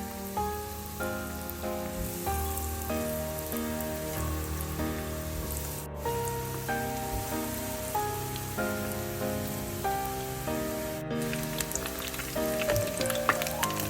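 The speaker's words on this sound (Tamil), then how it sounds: "நான் இந்த கட்லெட்டை பொரிச்சு எடுக்கிறதுக்கு ஒரு சட்டி அடுப்பில் வச்சு எண்ணெய் விட்டுருக்கிறேன்." Fish cutlets deep-frying in hot oil in a pan, giving a steady, dense crackle and sizzle, close and continuous, with background music playing over it.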